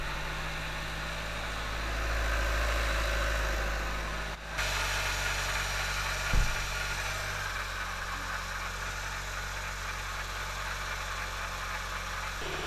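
A 2012 Kia Optima engine idles while warming up after an oil cooler replacement, a steady low hum with a brief dip partway and one short knock, close and even with no voices.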